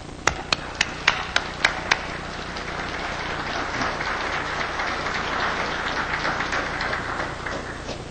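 Audience applause welcoming a speaker to a talk on the Constitution and income tax: a few sharp claps at first, then steady, broad clapping from a crowd that continues throughout.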